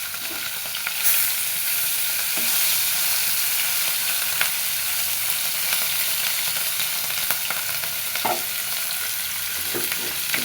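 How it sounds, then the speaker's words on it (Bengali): Rohu fish sizzles and crackles steadily in hot oil in a home kitchen, loud and close, with occasional stirring knocks and no talking. "তেলটা গরম হয়ে গেছে, এখন আমি এর ভিতরে দিয়ে দিলাম মাছ।"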